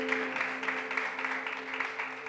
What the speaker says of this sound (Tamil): நல்லா இருந்தா ஒரு கைத்தட்டு கொடுங்க